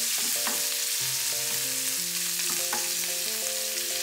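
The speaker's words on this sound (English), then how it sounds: "Add back the prawns. Toss a few times," Prawns are tossed in garlic-infused oil in a wok, giving a constant bright sizzle with occasional soft stirring knocks. Background music plays throughout.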